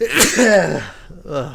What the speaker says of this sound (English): Hold on, I feel sneeze.